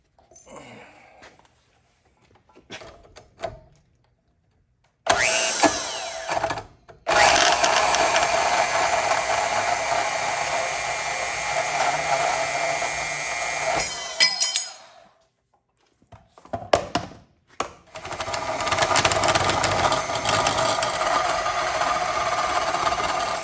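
Power cutting tool slicing through the steel lip of a Foxbody Mustang subframe connector, a loud continuous grinding whine in long sustained bursts separated by short pauses and quieter clinks.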